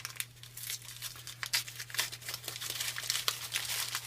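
Paper crinkles and rustles up close as a package is unwrapped, with irregular crackling bursts and occasional tearing over a low steady hum.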